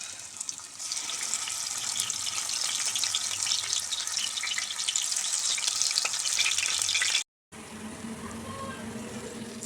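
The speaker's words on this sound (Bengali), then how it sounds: "এটা গরম হয়ে গেছে, এবার একটা একটা করে পটল এরকমভাবে ছেড়ে দেব তেলে" Stuffed pointed gourds fry in hot refined oil with a loud, continuous, bright sizzle that fills the scene. A brief silent gap follows, and then a quieter, softer frying sound continues.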